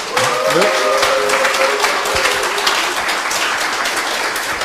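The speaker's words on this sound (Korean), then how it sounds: "응원의 의미에서 한 박수 보내주십시오" Audience at a live political party broadcast claps in support, a thick, continuous round of applause close by, with a voice briefly audible at the start.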